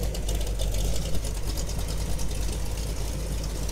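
A Jeep Wrangler CJ5 engine idles steadily, a loud, close, continuous low rumble with an even throb and no talking over it.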